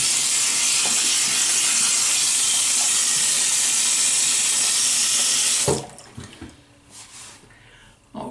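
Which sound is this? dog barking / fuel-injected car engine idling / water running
water running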